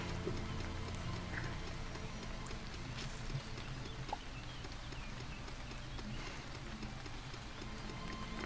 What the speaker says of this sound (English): God dang this acid rain.